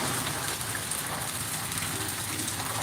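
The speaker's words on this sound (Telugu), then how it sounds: "మోస్తారు పాటు వర్షం కురుస్తున్న దృశ్యాలు ఇప్పుడు మనం చూస్తున్నాం" Steady moderate rain falls in Kallur, a dense continuous patter of drops on surfaces with no voices, even in loudness throughout.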